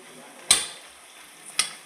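Chickpeas roast in a lightly oiled pan while being stirred, with two brief scraping clinks about a second apart over a faint, low background.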